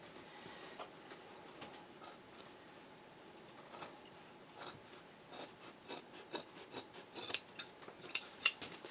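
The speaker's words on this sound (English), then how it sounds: "you can see how I am cutting through all of these layers" Scissors snipping through layered fabric, batting, stabilizer and foam for a machine-embroidered boxed bag, a close, quiet series of rasping cuts that gets louder and quicker toward the end, with no talking.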